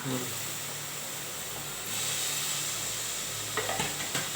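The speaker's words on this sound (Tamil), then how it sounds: "அடுத்து வெங்காயம் ஆனியன் போட்டுக்கலாம்" Onions sautéing in a hot pan give a steady broadband sizzle and hiss with occasional stirring scrapes near the end, close and fairly loud, with a faint voice underneath.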